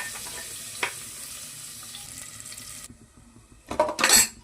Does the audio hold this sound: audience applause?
no